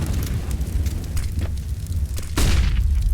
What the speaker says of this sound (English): So it's nice to see a nade pay off.